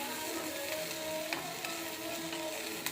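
Spices and salt dry-roasting in a pan for idli podi give a faint, steady rustling sizzle with a few light scraping ticks from stirring, quiet and close, no voices.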